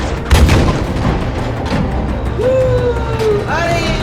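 A heavy boom lands early as a tower is blown apart in Battlefield V, followed by a sustained roar of debris and battle noise with faint whistling tones near the end.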